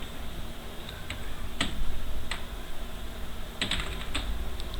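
Numbers being typed on a computer keyboard: sparse, crisp key clicks in small irregular bursts over a quiet steady room hum, close to the listener and with no talking.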